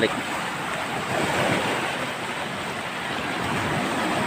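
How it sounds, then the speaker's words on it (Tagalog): Large ocean waves roar and wash continuously, with steady wind buffeting the microphone throughout. "Sa lalaki ng alon."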